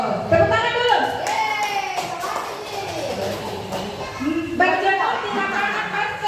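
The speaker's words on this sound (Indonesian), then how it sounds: "Oh, tepuk tangan dulu." Hand clapping from a group at a school gathering, with scattered, uneven claps under ongoing talk and children's voices.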